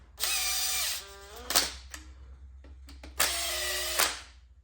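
Power tool driving 3/16 Allen head bolts with a socket while building a single cam RB30 turbo engine; two sustained whirring runs with a pitch drop, separated by short clicks and clanks, fairly close.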